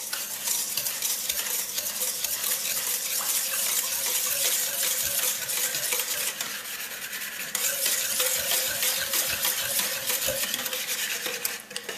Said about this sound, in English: Just going to briefly whisk this up real quick.